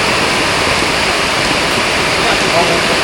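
Loud, steady rush of running water pours continuously while something is washed under it, a close, unbroken hiss with no pauses.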